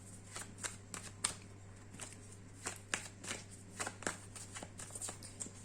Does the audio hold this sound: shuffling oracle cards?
yes